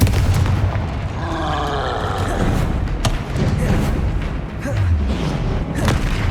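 A Confringo blasting curse goes off in a Hogwarts Legacy battle near a troll, with heavy booming explosions and thuds stacked over loud, busy combat sound effects.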